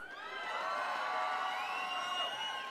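An audience cheers at the HPL final, a sustained crowd roar with whoops and high shouts that swells and holds steady for the whole stretch, fairly loud and alone.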